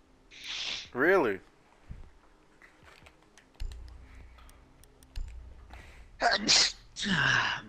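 A person sneezes loudly twice, a short burst early on and a sharper double sneeze near the end, with quiet room noise, light clicks and people talking in between.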